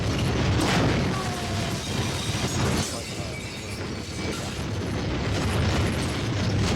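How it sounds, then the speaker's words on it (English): Firecrackers go off in a horror movie scene, a dense run of crackling pops and bursts filling the whole stretch, loud and continuous with brief lulls. "Firecrackers are going off."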